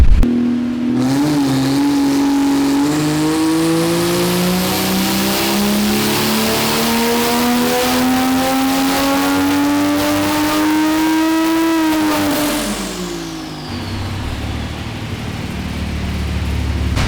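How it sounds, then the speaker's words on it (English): A tuned Toyota A90 Supra engine revs hard on a dyno at low boost, steadily climbing in pitch for about twelve seconds, then drops off abruptly and settles back to a rumbling idle. "On the dyno now, we're gonna do one hit and low boost"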